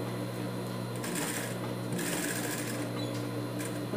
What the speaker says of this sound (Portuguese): Costurar em toda a volta.